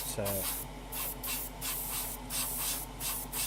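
Short repeated bursts of spray paint hiss as a coat goes onto the deep rear wheel rim of a Tamiya 1:12 Repsol Honda RC211V model motorcycle, close and rhythmic with brief pauses between passes.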